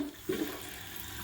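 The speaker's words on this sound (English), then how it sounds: "now you can hear the water running." Water rushes steadily into a toilet tank through a fill valve that sticks, a constant close hiss with a brief gurgle near the start.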